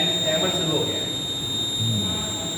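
A Kavach train protection simulator warning buzzer sounds as a steady, continuous high electronic tone throughout, with people talking underneath it.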